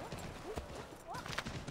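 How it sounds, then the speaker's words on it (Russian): Horse hooves running in the video game Assassin's Creed 3: a faint, quick clip-clop of galloping hooves, with soft tonal sounds drifting over the rhythm. "Как хорошо, что лошадь бегает за мной."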